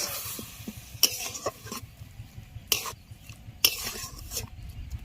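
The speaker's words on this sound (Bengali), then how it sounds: "কাশ্মীরি লঙ্কাগুলো এইভাবে নাড়াচাড়া করতে হবে" Kashmiri chillies are stirred in a dry pan with no oil, a utensil scraping and clattering against the metal in irregular strokes with a few sharp knocks, close and moderately loud, with no talking.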